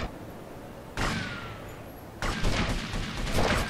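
Gunshots in GTA Vice City as two men are killed, two loud bursts of game gunfire, the second longer and rougher, over a steady background hum.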